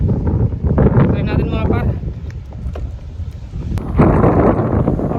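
Gusty wind buffets the microphone at the foot of a seaside cliff at low tide, rumbling steadily throughout while someone talks over it.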